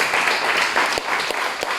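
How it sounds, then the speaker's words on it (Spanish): A church congregation applauds loudly during a sermon, close, dense clapping with a few sharp individual claps standing out over the steady wash. "Dale un fuerte aplauso al Señor."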